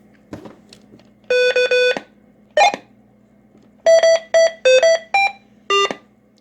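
Series of short electronic roger beep tones from a radio, some single and some in quick clusters of two or three, over a faint hum.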